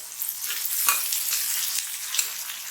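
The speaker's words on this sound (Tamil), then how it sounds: "தக்காளி நல்லா வதங்கி அப்படியே திக்காக வரணும் குழம்பு." Tomatoes sauté in a pan for a Tamil tamarind curry, a steady bright sizzle broken by scraping stirs, close up and with no talk.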